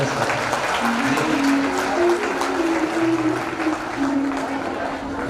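Loud, sustained clapping from the audience at a live Shivmahapuran katha fills the whole stretch, dense and continuous, with a voice faintly audible underneath.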